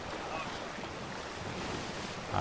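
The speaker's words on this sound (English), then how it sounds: "Ah, the ocean." Ocean waves in a pirate sailing video game, a steady wash of surf and wind noise with a louder swell at the end.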